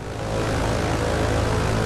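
A propeller airplane in a flight simulator game drones nearby with a constant, loud engine hum and steady tonal buzz, no voices.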